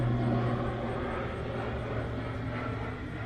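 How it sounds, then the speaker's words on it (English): A crop duster airplane passes overhead in farm country, its engine giving a steady, broad drone that holds fairly loud through the clip with a low hum underneath and no speech. "And there goes crop duster."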